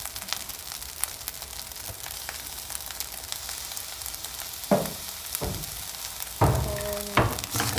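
Fried rice sizzles steadily in a pan, a continuous crackling fry with a few louder scraping stirs of the utensil near the end, no talking.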